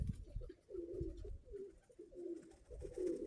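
Domestic pigeons coo softly and repeatedly nearby, low rolling calls over faint background noise.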